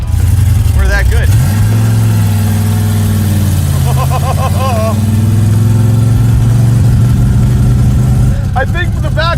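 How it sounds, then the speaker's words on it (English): A 1968 Plymouth Road Runner with a 383 V8 and four-speed manual, its engine droning loud and close throughout with a low steady rumble and shifting revs, while voices talk over it. "I'm driving a 383 4-speed 68 Roadrunner."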